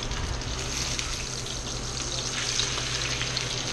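Sous vide ribeye steaks sizzle steadily in a hot pan just after flipping, a dense, even frying hiss with watery crackle holding at close range throughout, no voices.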